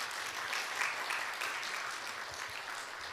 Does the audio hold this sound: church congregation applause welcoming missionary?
yes